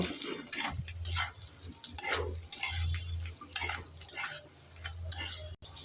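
Turmeric powder and green chillies being stirred in a pan: close spoon scrapes and metallic taps come in irregular bursts over a faint background, with no speech.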